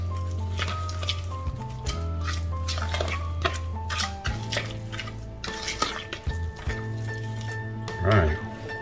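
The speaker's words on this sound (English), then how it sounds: "Some shredded cheese. Give that a good stir real quick." Spoon stirring thick muffin batter with shredded cheese in a bowl for corn dog muffins, a steady close scraping and clinking of utensil against dish with soft wet squish, continuous with a low hum and tonal background sound.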